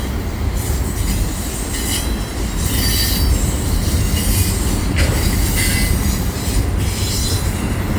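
A five-engine CN freight train rolls westbound through Atwater Curve, close and loud. Its steady rumbling roar is laced with high wheel squeals and faint clatter, and it continues without a break.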